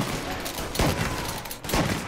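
Rapid burst of gunfire in the Mafia: Definitive Edition video game, several sharp shots in a quick volley with a louder crack near the start and another near the end, fairly close.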